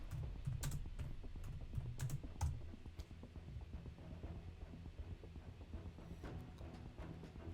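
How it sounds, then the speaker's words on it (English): Quiet computer keyboard typing in irregular bursts of close clicks and clacks, with a faint hum beneath. "You might hear me typing a little bit."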